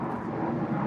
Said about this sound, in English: Sounds like there's a very loud jet overhead.